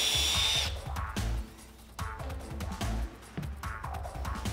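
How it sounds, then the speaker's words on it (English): A power drill bores into tempered glass encased in epoxy, whirring in repeated short bursts with brief pauses between them, close and fairly loud, with no talking. "Let's try to drill another hole on the other side."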